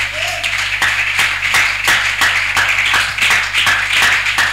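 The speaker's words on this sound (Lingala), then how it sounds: "Est-ce qu'on peut acclamer pour lui?" A church congregation claps and cheers loudly for a reverend, steady rhythmic clapping with crowd noise and a low hum filling the room throughout.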